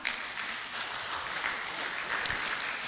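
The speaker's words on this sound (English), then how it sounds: "Can you all clap for Cube Hub?" An audience at an edtech festival applauds, a steady dense wash of clapping from many hands lasting throughout.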